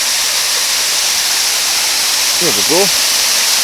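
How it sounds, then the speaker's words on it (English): A waterfall behind the Douglas Hotel in Brodick on the Isle of Arran gives a steady, loud broadband rush, with a man's brief remark near the end. "I'm going to just go over to where I can see the waterfall."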